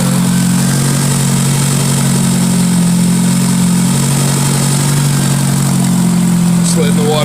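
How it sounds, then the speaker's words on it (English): A Ford Escort engine runs after repair, a loud, steady idle hum with a constant low drone and no change in revs, heard close up. "I might shoot a little video of the car running, see if that sound goes away."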